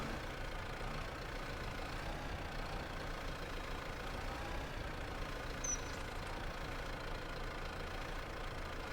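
Old tractor with painted wheel weights and loader arms idling in a farming sim, a steady, even engine drone that holds unchanged throughout, with no talk over it.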